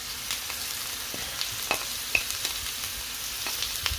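Onions and chicken fry in a pan with a steady soft sizzle, crackling pops and a few sharper spatters throughout, moderately close and without talk.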